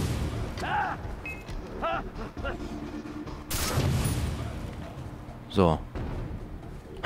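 Sharp gunshots ring out in Far Cry 3 gameplay, set among ambient noise and spoken commentary, with bright broadband cracks standing out from the mix.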